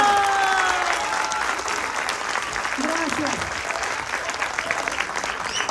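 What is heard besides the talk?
theater audience applause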